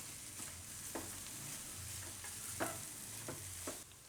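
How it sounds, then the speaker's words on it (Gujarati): Soya chunks stirred as they fry over a low flame in a pan for soya bhurji pulao, a steady soft sizzle broken by a few sharp scrapes of the spoon, close and without talk. "વચ્ચે વચ્ચે હલાવતા રહેવું."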